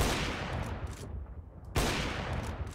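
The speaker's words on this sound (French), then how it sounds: "faire attention à ce que vous entendez dans votre oreille droite lorsque je tire la WAP" Gunshots from an AWP sniper rifle in CS:GO, loud sharp cracks with a reverberant tail, one shot at the start and another about halfway, each followed by a fading echo.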